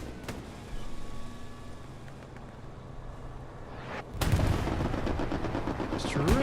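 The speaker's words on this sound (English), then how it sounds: "Strafing run." Aircraft strafing run in a war video game: a burst of rapid gunfire and heavy impacts erupts partway through, loud over a steady background rumble of battle.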